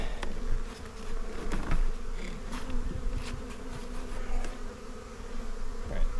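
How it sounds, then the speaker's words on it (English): Honey bees swarm around a swarm trap outdoors, a dense, continuous buzzing close by with individual bees droning past at shifting loudness. "you can see the foraging bees are already finding their way"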